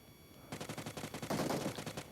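Rapid automatic gunfire in the PUBG Mobile video game, with a fast, loud, evenly spaced burst of shots that intensifies midway and continues to the end.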